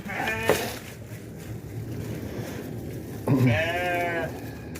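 Two sheep bleats while the sheep eat corn stalks from basins, one brief near the start and a longer wavering one later, over quiet rustling background.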